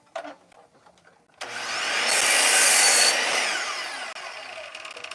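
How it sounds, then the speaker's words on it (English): A saw cuts knots off a wooden stud board during closet framing: one loud, close, continuous cut of about three seconds that starts abruptly and then tapers, with quiet handling noises before and after. "So I cut this knot and that knot off."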